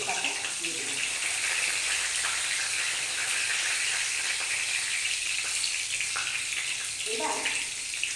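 Whole cumin, a dried chilli and two bay leaves fry in hot oil for a vegetarian curry, giving a steady, close, dense sizzle that runs throughout, with occasional faint voice in the background.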